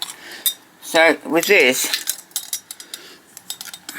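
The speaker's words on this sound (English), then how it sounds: "So, the seal, we'll wind it." A small wind-up tinplate seal toy is handled and wound, with faint metallic clicks and ratcheting ticks following a man's brief spoken remark nearby.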